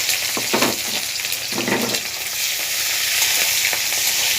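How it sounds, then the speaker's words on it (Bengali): Chopped garlic, capsicum and slit green chilies fry in hot oil in a pan, sizzling loudly and steadily at close range, with a couple of stirring scrapes near the start and no voices. "রসুন কুচির সঙ্গে সঙ্গেই আমি দিয়ে দিচ্ছি ক্যাপসিকাম আর চেরা কাঁচা লঙ্কা"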